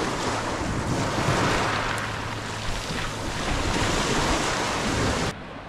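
Waves roll in on an Alaskan beach as the tide comes in quickly, a broad continuous surf wash mixed with strong wind rumble on the microphone, loud and close, cutting off abruptly near the end.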